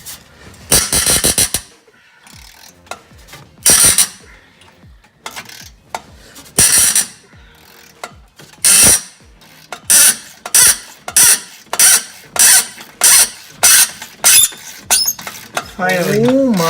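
A wrench ratchets on a stuck, rusty differential bolt under a Nissan 350Z drift build: close, sharp metallic clicking bursts, first irregular, then a steady run of evenly spaced strokes, with a brief voice near the end.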